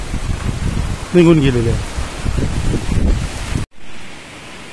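Monsoon rain falls steadily around a tourist stop at Kukdeshwar, a constant hiss under a person speaking, briefly cut off near the end before resuming.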